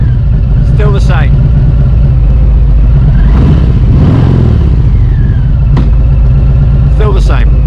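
Harley-Davidson motorcycle engine idling with a loud, steady low rumble, with a couple of rev swells and brief mechanical clunks in first gear; a voice is heard talking over it.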